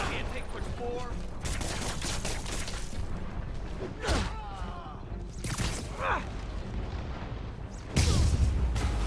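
Gunfire and booming blasts ring out amid chaotic action in the video game Marvel's Spider-Man, with several sharp bursts and a heavier explosion near the end, voices mixed in.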